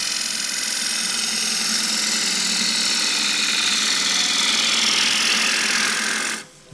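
A 1/4 inch deep fluted bowl gouge cuts green wood on a lathe while turning a small bowl, making a steady, loud, hissing rasp that runs unbroken and stops abruptly near the end.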